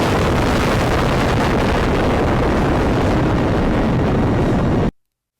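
A loud explosion roar from a comedic video produces dense, sustained rumbling noise for about five seconds before cutting abruptly to silence.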